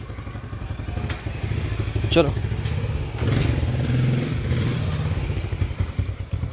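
A motorcycle engine rumbles steadily at close range through a village wedding procession on baraat day in Azad Kashmir, with a brief clatter midway and people talking over it throughout.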